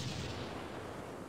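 Grenade explosions in the Close Combat 2 war game, a dense rumbling blast that swells loudly at once and slowly fades, with no voices over it.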